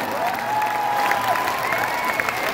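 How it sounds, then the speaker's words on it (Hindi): Crowd applause and cheering with a steady wash of clapping, loud and sustained, over a band of music or a held tone. "दोनों हाथ ऊपर करके जोरदार तालियां हो जाए गाइस"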